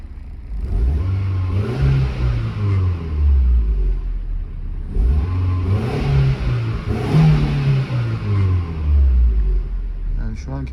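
An Opel Tigra engine warming up, revving in a few strong throttle blips that rise and fall between steady running; at around 1000 rpm it bogs briefly before picking up. Close and loud.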